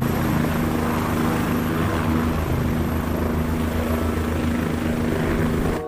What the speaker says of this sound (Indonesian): Wah, ada helikopter pemadam.